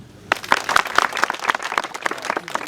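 An audience applauds at the launch of Magenche United Football Club: a sudden burst of fairly close hand clapping in a quick, regular rhythm, sustained for a few seconds.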